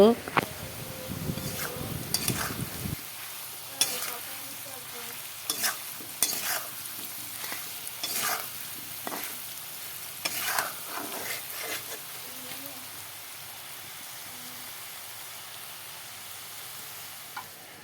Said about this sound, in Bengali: আলুর সাথে নুন দেওয়া হয়ে গেল নুন হলুদ দিয়ে আরও কিছু সময় ভেজে নেব